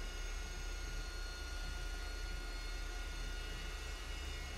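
Steady broadband jet engine roar of an RAF Harrier in Microsoft Flight Simulator on Xbox Series S, loud and continuous throughout with a deep low rumble and no talking.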